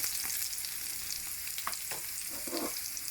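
Garlic frying in a pan with eggs and onions for ampalaya, a steady close sizzle with occasional pops and stirring scrapes, nobody speaking.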